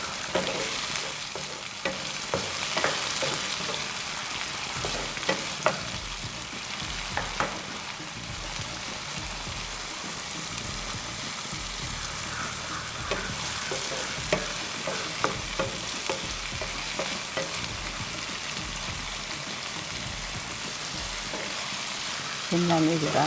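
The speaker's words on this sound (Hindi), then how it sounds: "हरी मिर्च डालेंगे, फिर इसको थोड़ी देर तक चलाएंगे।" Green chilies stir-fried in a pan while making Maggi Manchurian, a steady close sizzle with scraping stirs and clinks throughout, with a brief voice partly audible.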